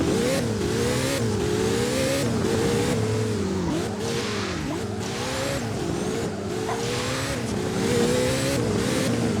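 In the video game Driving Empire, a Koenigsegg Jesko engine revs hard and continuously, its pitch climbing and dropping through repeated gear shifts, loud and up close with a gritty racing roar.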